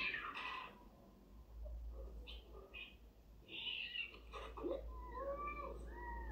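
A cat meowing indoors, a few soft, faint mewing calls scattered across the stretch over a low background hum, with quiet voices nearby.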